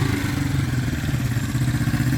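A tuned 1972 Honda CL350K4 Scrambler, candy gold, with synchronized carburetors, runs close by with a loud, even, throbbing engine beat and mechanical clatter throughout.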